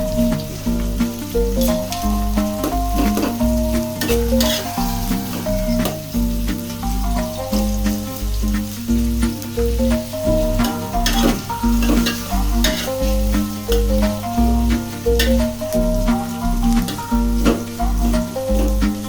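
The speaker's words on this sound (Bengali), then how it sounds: "পেঁয়াজটা একটু ভেজে নেব, একটু বাদামি করে ভেজে নিতে হবে।" Onions frying in a pan until lightly browned for chicken biryani, a steady close sizzle with regular rhythmic stirring and scraping throughout, loud and continuous with no talk.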